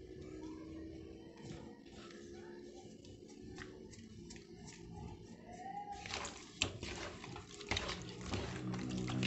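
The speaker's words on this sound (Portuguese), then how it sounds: "Correr bem aqui essa água." Water runs steadily at the riverside while lambari fish are prepared with seasoned salt and flour. It makes a continuous wash of moderate loudness, with a few sharper splashes and clinks near the end, and a voice talks over it.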